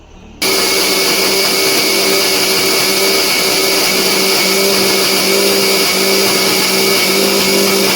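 Mixer grinder running steadily and loudly, grinding jackfruit with jaggery into a batter for fritters, a continuous motor whine and churning with no pauses and no voices.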